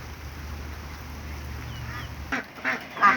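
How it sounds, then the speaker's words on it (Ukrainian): Ducks quack a few times in short bursts near the end in the rain, after a steady low hum fades out; earlier there is only a soft background drone. "Качечки радіють разом зі мною"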